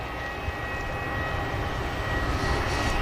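A passenger jet at Manchester Airport gives a steady, broad engine roar throughout, moderately loud at a middle distance, with no talk over it.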